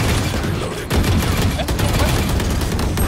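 Shotgun blasts in Valorant, part of a dense burst of overlapping game gunfire that runs loud and near for the whole stretch, with a brief dip just before the barrage resumes.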